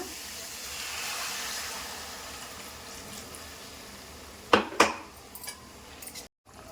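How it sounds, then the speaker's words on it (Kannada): Water is poured into chicken masala cooking in a pan, making a soft rushing hiss that swells and fades, followed by a few sharp clinks of a utensil against the pan. "ಅದಕ್ಕೆ ನೀರು ಹಾಕೋಣ"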